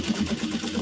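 A sewing machine stitches a bag seam at a steady fast pace, its needle thumping in an even rhythm of about eight or nine beats per second, close and moderately loud with no talking.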